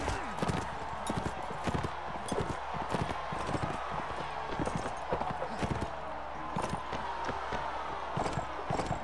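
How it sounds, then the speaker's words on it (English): Horse hooves clatter in a fast, steady galloping rhythm within the Mount & Blade Warband medieval combat game, continuous and fairly close throughout, with voices talking over them. "Come on, let me on the horse."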